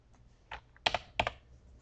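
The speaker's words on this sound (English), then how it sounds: "Let me type this in." Keys clacking on a computer keyboard, a few quiet, sparse keystrokes in short bursts, close up in a quiet room.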